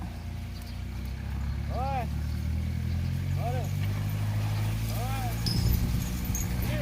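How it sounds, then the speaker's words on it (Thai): A farm tractor plows a rice paddy nearby, its engine a steady, low, rumbling drone that continues throughout, with a few brief higher chirping calls rising above it. "ได้ยินเสียงรถไถแบบว่า อ้อมทิศทางเลยนะคะ"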